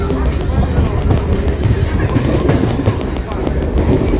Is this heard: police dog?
no